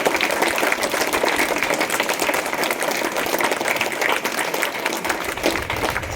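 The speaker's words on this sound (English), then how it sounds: "I think we need to clap also for the in charge who prepared them for this" Applause from a school audience at a special assembly: a dense, sustained crowd of hand claps, loud and steady throughout with no pauses.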